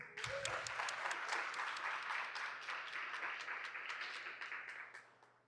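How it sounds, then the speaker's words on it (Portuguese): A women's professional audience at a talk event breaks into applause, dense clapping from many hands that swells quickly, holds steadily, then fades out toward the end. "uma salva de palmas para nós."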